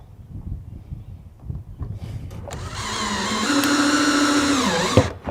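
A power drill drives the last screw into a flange on the side of an IBC tank for a DIY septic system, whirring up loud and close for a few seconds after some handling noise, then stopping abruptly.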